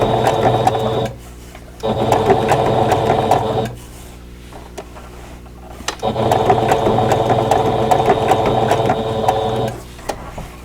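Embroidery sewing machine stitching an appliqué on a Christmas cottage quilt block, running in steady rhythmic bursts of rapid needle clatter with a pause in the middle as it stops needle down, then resumes; close and alone.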